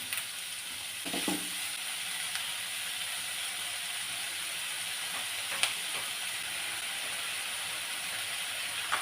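Garlic and green chillies frying in a pan for Kerala-style egg curry, a steady low sizzle and hiss with a few faint clinks, no talking.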